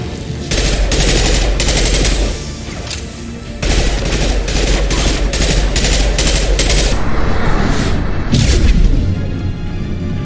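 Rifle fire in the sci-fi shooter Mass Effect 2, set on the station Omega: loud, dense bursts of rapid shots with booming impacts, pausing briefly before resuming, close and without voices.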